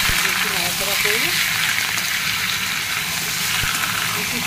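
Chicken frying in hot oil in a pan with onion, garlic and ginger, a loud, steady sizzle and hiss of oil as it is stirred, with a brief bit of background speech near the start.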